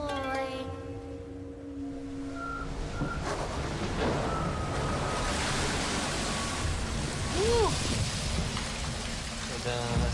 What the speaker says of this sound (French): Vous voyez les vagues, là?